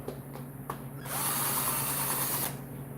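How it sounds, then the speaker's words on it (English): A small power drill whines steadily as it bores into a fiberglass speaker lid for a Victory Cross Country motorcycle in a garage, a loud sustained run of about one and a half seconds after a few quieter taps. "That's why I'm using my small drill instead of my big one."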